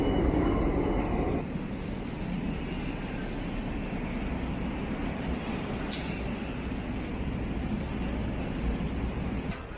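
Continuous rumbling roar of a subway train in motion in Romania, heard from inside a carriage, with steady low noise and faint clatter throughout.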